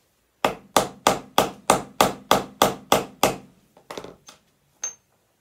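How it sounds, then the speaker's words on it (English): Sharp metallic hammer blows set an eyelet and washer together, striking about a dozen times in a steady, even rhythm, then a few lighter, irregular taps trail off. "then hammer the eyelet and washer together"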